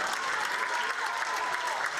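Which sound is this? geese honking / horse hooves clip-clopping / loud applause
loud applause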